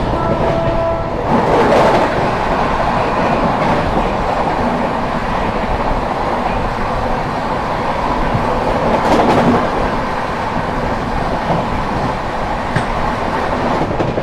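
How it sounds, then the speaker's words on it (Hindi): The Chandigarh Prayagraj Sangam Unchahar Express rushes past close by in the early morning, a loud, steady rumble of rolling wheels with rhythmic clatter over rail joints and brief metallic squeals throughout. "सामने से आ रही है चंडीगढ़ प्रयागराज संगम ऊंचाहार एक्सप्रेस"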